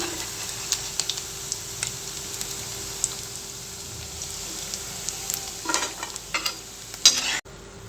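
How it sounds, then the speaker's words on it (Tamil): Soya chunks fry in hot oil with a soft, even sizzle. Scattered crackles and pops sound throughout, and sharper clicks of a utensil lifting the chunks come near the end. "எல்லா சோயா சங்க்ஸையும் இந்த மாதிரி நம்ம பொறிச்சு எடுத்துட்டோம்"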